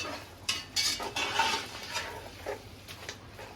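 A spoon stirring goat head curry with mung dal in a pot, a few close metallic clinks and scrapes against the pot in short bursts, fairly faint, without talk.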